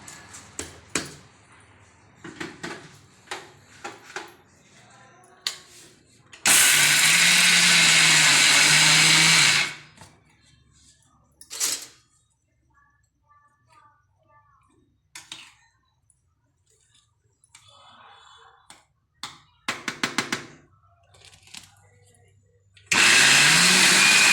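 A kitchen mixer grinds green chilli and peanut thecha in two loud bursts, one lasting about three seconds and a shorter one at the very end. Speech and small handling clatter fill the quieter stretches between them.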